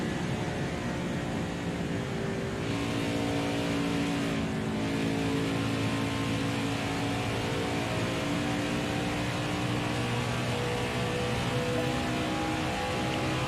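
NASCAR Heat 5 race car engines roaring steadily on the oval at Homestead, a dense, continuous drone of several cars running together with a slight pitch shift as one passes.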